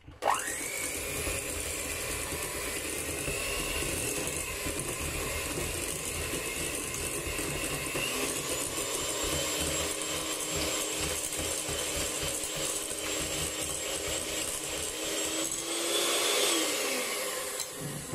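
An electric hand mixer whirs steadily as it whips liquid cream with 30% fat into a firm whipped cream, a continuous close mechanical drone with a slight shift in pitch near the end and no talking.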